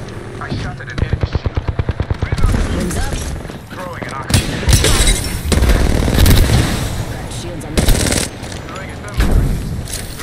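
Automatic weapon fire in the video game Apex Legends: a rapid rhythmic burst followed by heavier booming shots and loud sustained blasts, with voices speaking over the combat.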